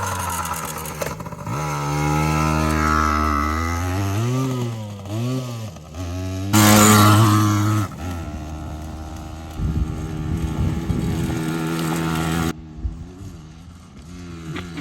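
A Yamaha BW80 motorcycle engine idles loudly and steadily, with a harmonic drone that shifts pitch as the revs rise and fall, a louder burst near the middle, and a sudden stop near the end.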